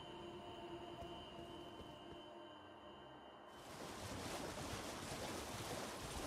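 Water in the Elden Ring video game: a steady broadband wash like surf or flowing water, with wind and a low rumble, swelling louder midway through and continuing alone.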